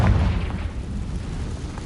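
Confringo blasting spell exploding in Hogwarts Legacy, one short muffled boom at the start that quickly fades into a low rumble.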